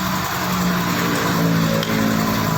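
A car engine rumbles loudly through a modified exhaust muffler fitted with a mesh insert, holding a steady, throaty drone at close range with no voices.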